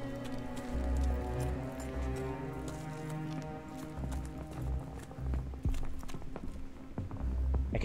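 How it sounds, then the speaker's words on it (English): Footsteps in the video game Call of Duty: Vanguard, during a 1942 Stalingrad mission, land as a series of sharp, knocking steps under a steady, tonal score and low rumbling battle ambience, with no talking. "I can hear footsteps, bro."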